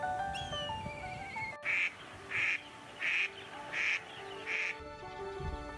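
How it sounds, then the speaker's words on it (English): An Indian spot-billed duck quacks five times in a steady, evenly spaced series across an organic rice paddy, loud and near, with other birds calling faintly behind. "From the north, an Indian spot-billed duck paddles along."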